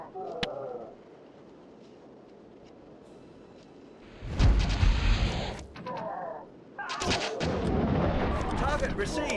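Cannons fire in the Sea of Claws video game as heavy booming blasts, with one large burst mid-clip and more rumbling shots near the end over a low battle ambience.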